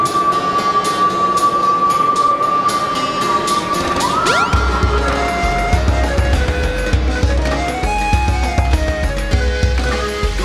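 Train departing in a Sonic video game: a sustained steady tone gives way to a sweeping rise and a deep low rumble of the train pulling away, with game music-like tones over it.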